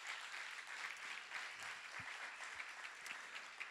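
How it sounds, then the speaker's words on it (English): A faint, steady round of audience applause at a bio summit, many hands clapping evenly and distantly throughout. "So one final round of applause for all of those people."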